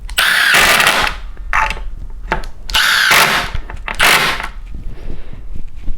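Milwaukee Gen 3 impact driver running in second mode, loud whirring and hammering in several short bursts with brief pauses between them.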